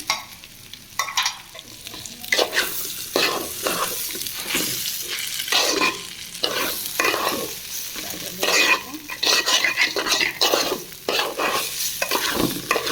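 Ginger and onion paste fries in a pan, sizzling steadily while a spoon scrapes and stirs in repeated rhythmic strokes, close and fairly loud.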